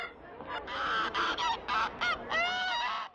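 A goose honks repeatedly near a tiger, a run of loud, close, nasal calls in quick bursts with short gaps, with no other sounds around them.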